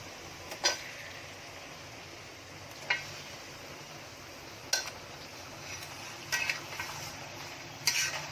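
Mutton frying with half-browned onions and masala in a pot for an aloo gosht, with a steady low sizzle and a few sharp clinks of a spoon against the pan as it is stirred.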